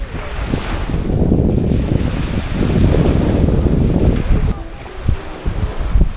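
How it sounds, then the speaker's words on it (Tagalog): Ocean waves surge and wash onto a beach in Zambales, a steady loud roar mixed with heavy wind buffeting the microphone, with faint voices underneath. "Nakatakot naman yung alon"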